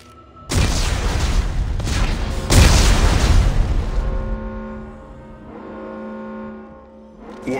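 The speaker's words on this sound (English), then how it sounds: "Computer, arm explosives. And detonate." Explosives detonate in the Dead Space 3 video game: a heavy booming blast hits, then a second rumbling surge, and both decay into a long, fading resonant hum with no voices.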